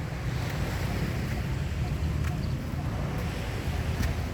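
Surf rolling onto Bangsaen beach in Chonburi, Thailand at sunset, a constant broad wash of waves mixed with heavy wind buffeting the microphone, steady and unbroken throughout.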